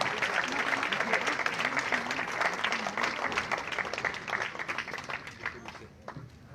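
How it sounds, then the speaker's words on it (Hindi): Audience at a political rally in Bhilwara breaks into sustained applause to welcome a guest, dense clapping throughout with voices murmuring underneath, fading slightly toward the end. "ऐसी तालियों के साथ स्वागत करें भाई साहब का"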